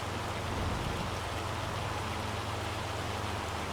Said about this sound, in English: Hopefully this hail doesn't cause damage to our fields.